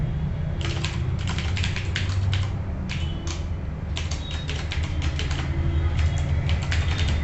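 Rapid, uneven clatter of typing on a computer keyboard during a typing test, with irregular runs of keystrokes over a steady low hum.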